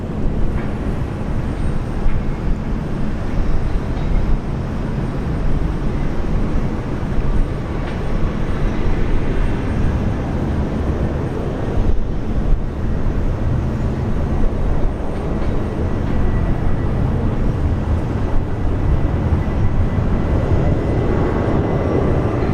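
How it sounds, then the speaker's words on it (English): Airliner arriving from Melbourne touching down at Brisbane Airport, a broad, continuous roar of jet engines and rushing air heard from a distance, steady throughout with a slight swell toward the end, no voices. "Touchdown. This one arrives from Melbourne."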